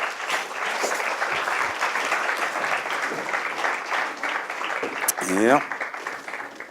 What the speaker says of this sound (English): here he is, under your applause